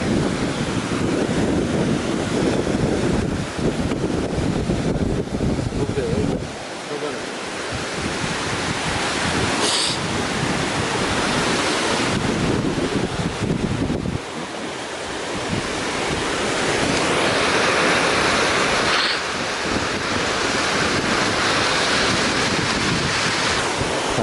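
Waterfall at Laki Potok in Macedonia, a loud, steady roar of rushing water with some wind buffeting the microphone, continuous and close throughout.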